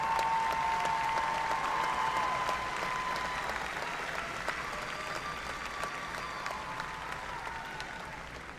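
Graduates are cheered with applause at a university spring commencement ceremony, the large crowd's clapping soft and distant, steady throughout and slowly fading toward the end, with faint tones underneath.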